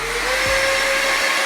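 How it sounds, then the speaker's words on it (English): A cordless air duster used at a barber station blows a steady, loud whooshing stream of air with a faint motor whine, running continuously and alone. "So this is a cordless air duster."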